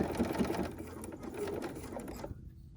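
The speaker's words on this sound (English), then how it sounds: "We're going to stitch on just that previous line that we already stitched on." A sewing machine runs steadily while stitching along an already sewn seam line for a quilting project, a close, continuous mechanical whir that slows and fades near the end.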